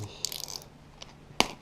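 A container of two-part resin is pried open: a scatter of small plastic clicks and rattles, a lone tick, then one sharp snap as the lid gives way, all close and without talk.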